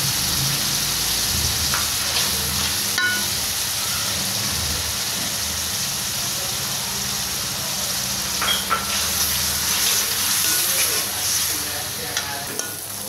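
Steady, loud sizzle of hot oil frying in a heated wok, with salt going in and stirring scrapes, continuous throughout with no talk.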